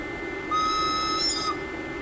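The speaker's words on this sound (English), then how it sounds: "What a whistle." Railcar whistle from a Swiss ABe 4/4 III in Train Simulator Classic: one sustained, steady whistle lasting about a second, loud and close over a constant cab hum, with no talking.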